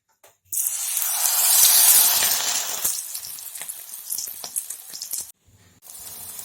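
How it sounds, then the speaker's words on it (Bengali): Coriander-leaf pakoras dropped into hot oil burst into a loud, bright sizzle that swells over the first few seconds, then settles into a steadier, softer crackle with a brief lull near the end. "এখন আমি তেলে ছেড়ে দিব।"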